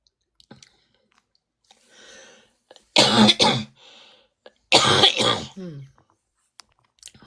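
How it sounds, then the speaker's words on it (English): A person with a lingering morning cough makes two loud, harsh bursts of coughing and throat clearing close to the microphone. Quieter breaths and small throat sounds come between the bursts. "This cough has to go."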